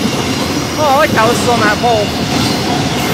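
CSX 482 freight train speeding through Altamont, Illinois, a loud steady rail roar with squealing tonal whines from the wheels or horn, while someone talks over it.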